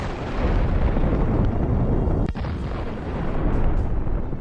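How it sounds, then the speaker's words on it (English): A kamikaze FPV drone strikes an armored vehicle hidden behind a forest belt, setting off a large explosion: a sustained, rumbling roar of blast and burning with one sharp crack partway through, loud and with no voices. "The hit of the kamikaze drone caused an impressive explosion."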